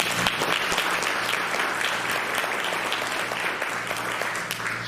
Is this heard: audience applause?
yes